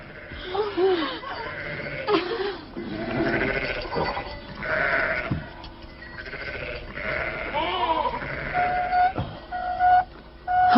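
Many sheep and goats bleat at a watering place, overlapping calls coming one after another from a close flock, with a steady background murmur throughout.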